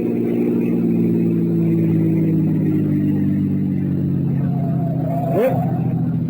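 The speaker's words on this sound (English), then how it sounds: "I got my car outside" A car engine runs and pulls away in a 1940s radio detective drama, a steady mid-pitched motor drone with a rising rev near the end, loud and close with no talking over it.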